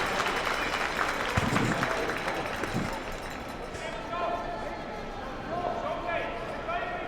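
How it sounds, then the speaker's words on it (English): A lively crowd applauds at the AMJ Players' Championship curling semifinal between Tirinzoni and Hasselborg. The clapping rises in a steady swell through the arena beneath commentators talking. "These crowds are pretty lively."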